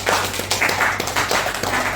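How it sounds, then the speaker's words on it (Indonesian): Applause from a class for a student group's presentation, a short burst of many hands clapping at moderate volume with some irregular sharper claps in the mix. "tepuk tangan dong untuk kelompok"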